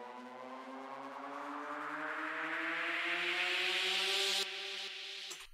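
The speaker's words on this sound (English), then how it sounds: "a typical kind of white noise" A swelling, swooshy white noise riser in a Cubase mix climbs steadily in brightness over a few seconds, layered with sustained tones, then cuts off abruptly.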